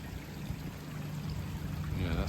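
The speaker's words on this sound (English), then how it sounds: "it's all pouring down into this corner and we've got to try and get it all away" Rainwater pours and trickles down a garden slope into a corner, a steady faint outdoor wash of running water that swells slightly toward the end.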